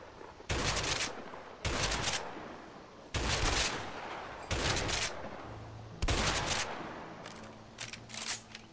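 M14 rifle fire aimed at empty houses in the game A Way Out, coming as five or six loud, sharp bursts of rapid shots separated by brief pauses, with no talking.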